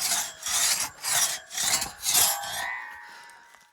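A two-man saw cuts a notch into a standing tree trunk, giving five rhythmic rasping strokes in quick succession, close and fairly loud, before the sawing stops and fades out.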